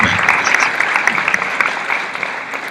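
An audience at a medical talk on excessive sleepiness gives a departing doctor a strong round of applause: dense, loud, continuous clapping that holds steady and eases slightly toward the end.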